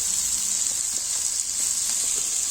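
Fish frying in a pan, a steady close sizzle and hiss holding evenly throughout with no voices.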